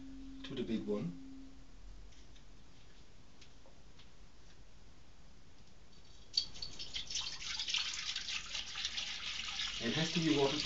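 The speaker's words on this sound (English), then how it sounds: "So let's put some water in to the big one." Bottled water pours into a large bowl during a water-charging ritual, a steady splashing stream starting partway through and building, after a stretch of near quiet with a brief earlier ringing tone.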